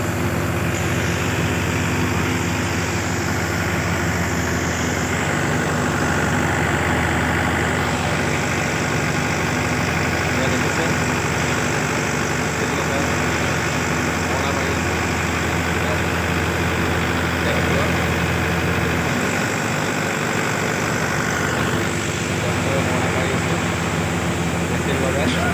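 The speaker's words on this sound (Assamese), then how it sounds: "কেনেধৰণে ট্ৰেক্টৰত মেচিনে মৰণা মাৰোঁ তাকে দেখুৱাম আজি আপোনালোকক" A tractor-driven paddy threshing machine runs steadily with a loud, continuous engine drone and mechanical hum throughout, while people talk over it.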